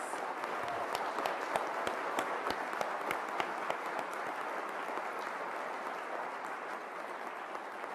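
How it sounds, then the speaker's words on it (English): An audience at a Montgomery College spring closing meeting applauds its awardees with steady, dense clapping that fills the room evenly for the whole stretch, with no voices over it. "Now let's have a round of applause for all our awardees."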